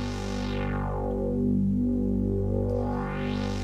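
A Korg MS2000R synthesizer plays a smoothed-out modulation sequence, a continuous droning tone with a filter that glides slowly up and down. It is steady and even, with no gating and no voices.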